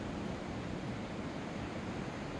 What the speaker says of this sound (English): I hope that the waves behind me calm you,